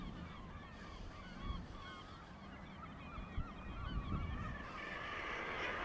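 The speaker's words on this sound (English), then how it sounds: "the birds I was wanting to see were these choughs" A flock of choughs at South Stack keeps up a chorus of repeated high, ringing calls, overlapping in quick succession against a steady background of wind or surf.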